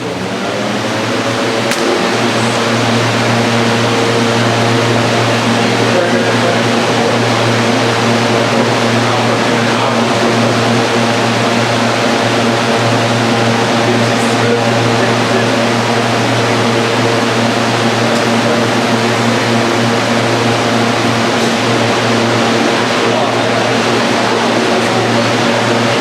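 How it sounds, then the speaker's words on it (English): A small engine or motor in a wind-power challenge runs loudly and steadily throughout with a constant drone and strong low hum, no talk over it. "we have a problem with this engine"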